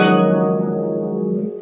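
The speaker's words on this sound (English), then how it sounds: "But I can use the backs of my nails and make it sound totally different," Harp strings plucked with the backs of the nails give a bright, brittle attack that rings out in one sustained chord and slowly fades, close and clear, with no talking.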